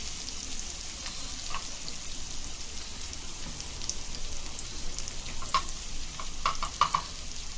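Onions fry in oil with cumin, a soft continuous sizzle with scattered crackles and light stirring, close by and fairly quiet.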